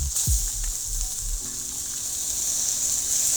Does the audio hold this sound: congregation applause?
no